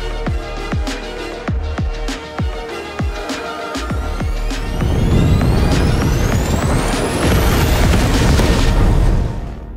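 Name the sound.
pyrotechnic charges exploding on film set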